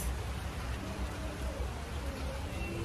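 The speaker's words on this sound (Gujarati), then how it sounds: "હાલ હું જ્યાં રોકાઈ છું ત્યાં આગળ મસ્ત વરસાદ થઈ રહ્યો છે મનાલીમાં." Steady rain falling in Manali, a continuous dense hiss with low rumble, fairly loud and even throughout with no clear voices.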